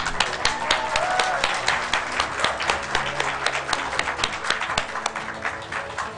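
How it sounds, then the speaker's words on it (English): Audience at a school speech competition giving sustained applause for the competitors, a steady dense wash of many hands clapping throughout. "I'd just like to say a quick round of applause for everyone"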